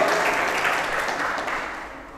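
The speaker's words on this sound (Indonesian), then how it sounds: "Kasih tepuk tangan." Dense, steady clapping from an audience at a leadership talk, sustained throughout and gradually tapering off toward the end.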